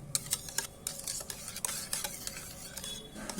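Rapid, rhythmic spoon strokes beat and mix a batter with jackfruit juice in a bowl, close and busy clicking scrapes with no voices.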